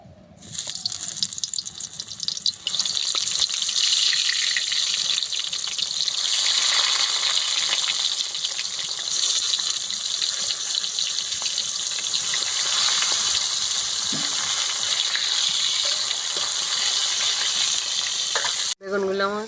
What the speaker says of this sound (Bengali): কড়াতে দিয়ে দেবো সরষের তেল। আমি বেগুনগুলো ভেজে নেব।